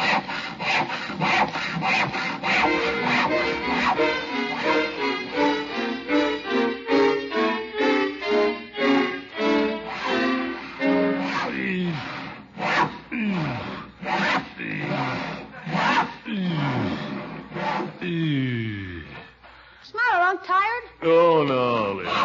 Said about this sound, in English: Never talk to a man when he's sawing, Leroy.